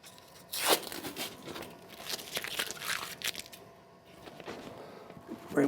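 Excess vinyl film is peeled and pulled up on a roll-to-roll laminator, giving close crackling, tearing rips in a few uneven bursts with quieter gaps between.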